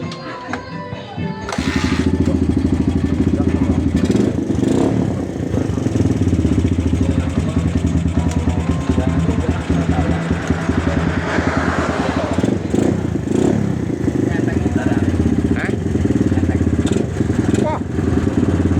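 A Suzuki motorcycle engine roars to life after a short quieter moment, then runs loud and close with a steady, buzzing drone and slight revving. Voices talk faintly beneath it.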